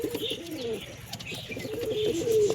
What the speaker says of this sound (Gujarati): આપણું કબૂતર ઉડીને આવી ગયા છે